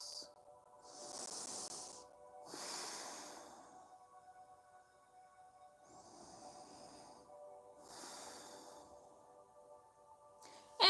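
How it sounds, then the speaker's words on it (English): Slow, audible breathing in and out through the nose during a seated yoga twist, several long airy hisses with quiet gaps between them, close and soft over a faint steady background tone. "Inhaling and exhaling through your nose."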